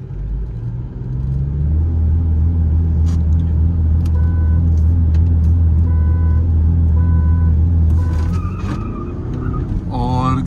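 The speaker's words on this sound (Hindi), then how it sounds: "और गाइस फर्स्ट गियर में क्रूज आगे है और सेकंड में भी आगे." VW Virtus Stage 1 and Chevrolet Cruze accelerating side by side in a drag race, a loud sustained engine roar with rising pitch through gear changes and brief electronic beeps, heard from inside a car while someone talks.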